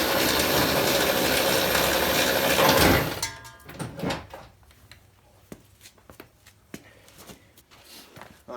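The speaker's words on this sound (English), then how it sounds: "we'll just use an extension like that and a 14mm socket" A ratchet with an extension and 14mm socket loosens strut nuts on a Honda Ridgeline front end. Loud broadband noise fills the first three seconds, then sparse sharp mechanical clicks and clunks follow at close range, with no talk.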